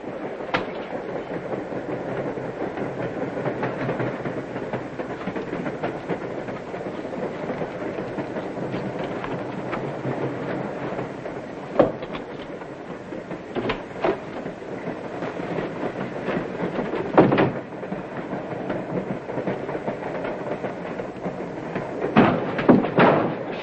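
A night train from a 1940 crime film runs on rails with a steady rumble and a faint clickety-clack. Occasional sharper knocks and bangs punctuate the sound, which stays continuous throughout with no speech.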